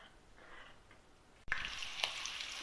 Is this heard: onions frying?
yes